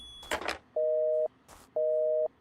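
Telephone busy signal in an indie video game: two loud, steady beeps of about half a second each, spaced a second apart, after brief noisy bursts at the start.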